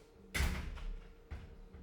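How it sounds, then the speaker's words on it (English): A hotel room door closes with a muffled thud. A second, softer knock follows a moment later, heard faintly in a quiet room. "close the door,"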